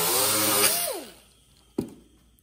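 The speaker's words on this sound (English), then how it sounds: "I have a Scotch-Brite wheel on here that's the same as the big Scotch-Brite wheel on the big grinder" A small one-inch Scotch-Brite wheel on a bench grinder whines loudly at high speed, then winds down to quiet, followed by a single sharp knock.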